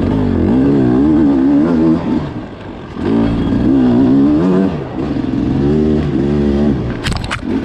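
A Beta 250 enduro motorcycle rides a special stage, its engine revving loudly in repeated surges and easing off between bursts, close and dominant throughout.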